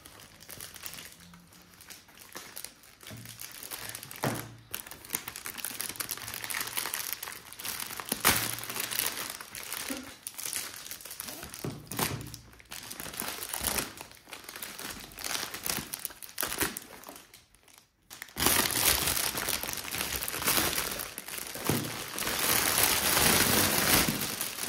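Foil wrapper on a chocolate Easter egg crinkles and rustles close up as it is torn open, in uneven bursts with a short pause before a louder, denser stretch of crumpling.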